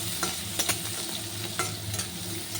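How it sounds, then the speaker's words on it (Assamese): An onion frying in leftover fish oil while a spatula scrapes and stirs the pan, a continuous sizzle broken by several quick scraping strokes, close up with no voices. "সেইখিনি তেলতে দিম মই পিঁয়াজ এটা। এয়া ধুনীয়াকৈ ভাজি লৈছোঁ"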